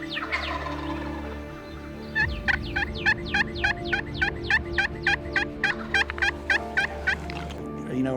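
A wild turkey gobbles in a long, loud, rapid run of repeated gobbles during a spring hunt, close and clear over a steady low outdoor hum, with no voices.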